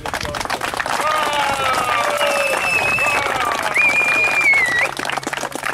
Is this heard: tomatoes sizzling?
no